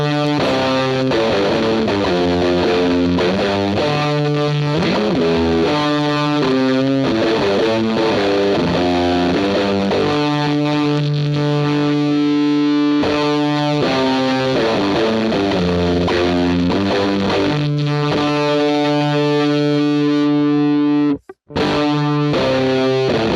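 Heavily distorted electric guitar through a fuzz pedal with the tube screamer switched off, playing a loud sustained riff of chords and bends for over twenty seconds, briefly cutting to near silence near the end before resuming.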